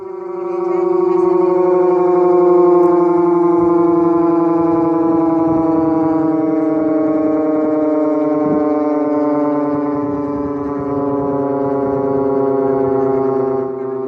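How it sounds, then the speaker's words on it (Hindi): A loud, steady civil defense siren in Delhi during a mock drill, holding a sustained wailing tone for a long stretch, sounding alone without any voices. "फिलहाल दिल्ली में सायरन की आवाज सुनाई देगी"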